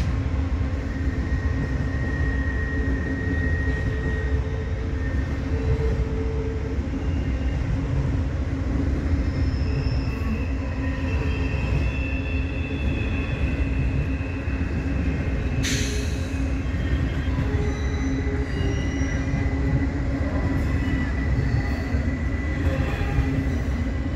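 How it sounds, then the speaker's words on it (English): An eastbound Amtrak Capital Limited passenger train arrives with a loud, continuous rumble of rolling wheels and cars, close by and sustained, while a westbound stack train runs behind it and a brief high squeal cuts through midway. "And now I have caught in the same evening the eastbound Capital Limited coming in."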